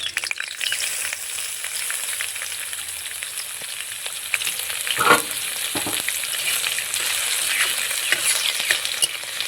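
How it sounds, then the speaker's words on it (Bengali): Cumin seeds and chopped ginger fry in hot oil as a tempering for dalia khichuri, producing a continuous crackling sizzle with a few stirring scrapes and a brief knock midway, no voices. "ভালোভাবে ফোড়নটাকে ভেজে নেব।"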